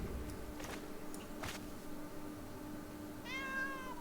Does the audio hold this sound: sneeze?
no